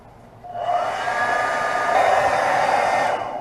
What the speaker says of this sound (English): Alright, we have the Fashion hairdryer here.